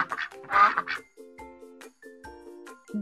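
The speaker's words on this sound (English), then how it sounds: "Duck." Cartoon duck quacking in a kids' educational animal game, a few nasal quacks near the start followed by bright, repeated chime-like game tones.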